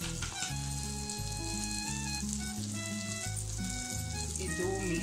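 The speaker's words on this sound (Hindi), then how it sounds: "ये 2 मिनट ऐसे ही फ्राई करना है बच्चों में" Sweet corn fries in a pan, giving a steady, even sizzle that runs the whole time under a loud bed of music.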